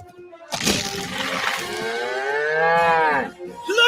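A single long, loud cow moo used as a sound effect in a TaxSlayer advertisement, sliding and wavering over several seconds after a brief sharp onset.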